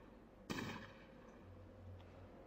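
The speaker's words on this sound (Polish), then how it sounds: "Piękne to są strzały, naprawdę piękne." A single sharp gunshot from the video game Fallout Tactics rings out, followed by quieter background noise and a low hum.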